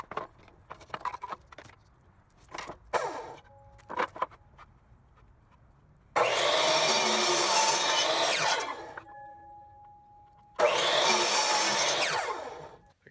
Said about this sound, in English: Drill a hole in it, and I'm gonna rasp it out.